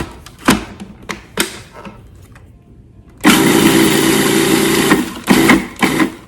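A food processor pulses pie crust crumbs with sugar and salt. A few short taps come first, then a loud, close motor whir runs for about two seconds, followed by several quick bursts.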